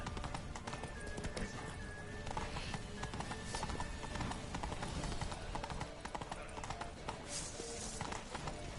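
Horse hooves pound in a quick, steady gallop in the video game The Witcher 3: Blood and Wine, close and continuous, with a brief whinny and other noise mixed in.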